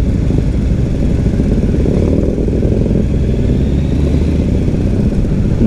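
A Kawasaki Ninja rides in a group of motorcycles on an open road at the start of a riding season, with a steady, dense engine drone and rushing wind filling the whole stretch without letup.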